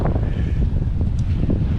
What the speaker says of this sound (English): where it's wavy, windy, and fun